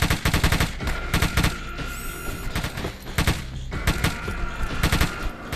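Rapid bursts of automatic gunfire from the RoboCop video game, loud repeated volleys of sharp shots in clusters with brief gaps between them, close and without talk.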